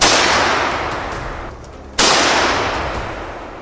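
Two heavy gunshots from boar hunting in the woods crack out about two seconds apart, each loud and close and trailing off in a long echoing decay.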